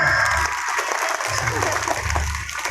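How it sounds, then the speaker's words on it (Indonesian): Applause from a crowd at a religious sholawat gathering, a short burst of clapping heard alongside voices and a low rumbling background. "Tepuk tangan, tepuk tangan."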